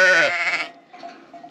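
One loud, wavering bleat from goats or lambs up close, followed by a fainter, shorter bleat in the background.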